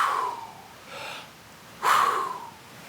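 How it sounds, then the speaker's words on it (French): Two deep breaths drawn in during a partner meditation, the second stronger and louder, with a quieter breath between them and no talking. "Maintenant, vous inspirez profondément."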